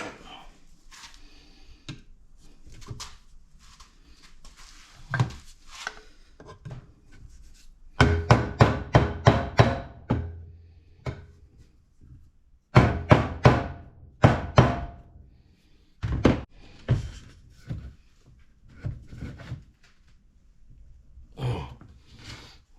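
Heavy blows struck on a 4L60e automatic transmission part during a rebuild, coming as irregular thuds that build into rapid clusters of loud metallic hits, with quieter handling noises and pauses between the flurries.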